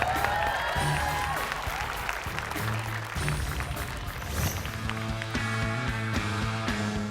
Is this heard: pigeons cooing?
no